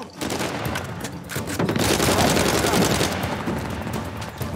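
Pistol shots from the action game Uncharted 4: A Thief's End on PS5, a rapid string of sharp cracks that swell into steady heavy firing near the middle, loud and close, with a little talk mixed in.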